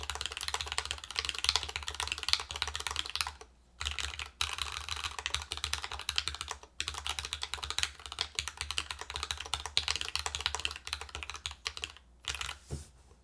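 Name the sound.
typing on a Dimple+ keyboard build with short spacebar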